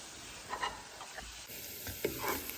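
Curry leaves hit hot oil alongside browning onions, giving a soft, faint sizzle with light stirring scrapes and a few small pops.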